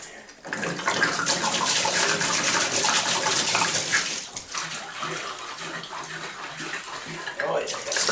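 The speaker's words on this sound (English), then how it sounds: "let's pour out this vinegar." Vinegar pours out of an engine part from a long-idle machine, a continuous splashing gush of liquid that eases partway through and then picks up again.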